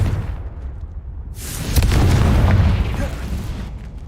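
A Confringo spell explosion in Hogwarts Legacy, a loud booming burst that erupts partway through and rumbles for about two seconds before fading, over steady game ambience.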